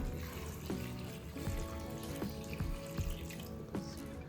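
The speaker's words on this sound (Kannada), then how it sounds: "ನೀರು ಹಾಕ್ತೇನೆ, ಸ್ವಲ್ಪ" Water pours steadily into a cooking pot on a wood-fired stove, a continuous splashing trickle with occasional louder drips and knocks, fairly quiet and without voices.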